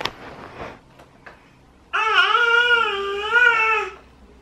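A small baby babbles and whimpers close by, one sustained wavering vocal run lasting about two seconds, preceded by faint soft sounds and quiet room noise.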